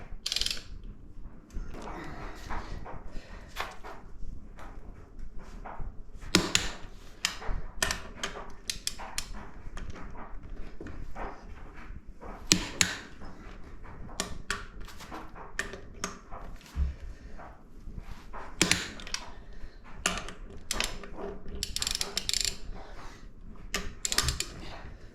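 Torque wrench ratcheting on the swingarm bolts of a BMW K100 café racer, repeated quick clicking bursts in irregular runs with pauses, close but fairly quiet in a workshop.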